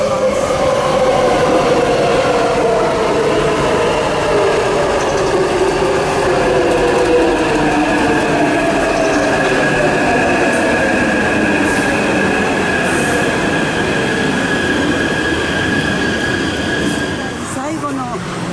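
A train running during a transfer in Taipei, with a steady loud rumble, rising and falling wheel whine and faint squeal, close and continuous throughout, with a brief clunk near the end.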